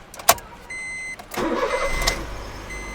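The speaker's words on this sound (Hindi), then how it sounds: "गाड़ी भी स्टार्ट हो गई है, बिल्कुल परफेक्टली गाड़ी स्टार्ट हुई है हाफ सेल्फ में" A Honda Amaze petrol car with an ECM fault is cranked over with a few sharp clicks and relay whirs, then the engine catches and settles into a steady close idle.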